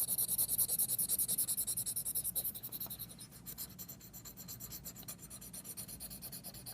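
Pencil rubbing and scribbling back and forth over paper laid on an object, a fast rhythmic rasping scratch, close and steady, slightly softer in the second half.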